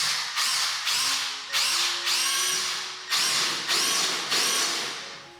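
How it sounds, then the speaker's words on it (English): A power drill whirs in repeated short bursts, about six pulses in a row, close and loud as it bores into plasterboard on a dot and dab wall, with hammer action off. "I'm now going to proceed to drill the first hole."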